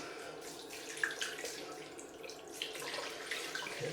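Cold tap water runs steadily into a sink for a rinse after shaving, a continuous close splashing hiss that wavers slightly in strength.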